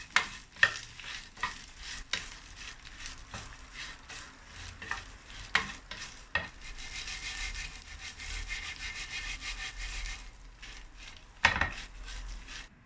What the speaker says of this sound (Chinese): 小火慢慢炒。